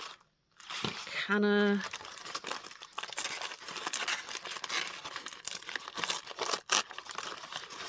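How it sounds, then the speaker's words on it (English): Crinkly paper is crumpled and handled while scraps are gathered for scrapbook pages. The rustling and crackling runs steadily and close throughout, with a person speaking over it. "there's that crinkly paper sound"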